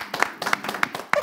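A small audience claps at a live event: a few distinct, sparse hand claps in slow succession, close and brief, with no voices.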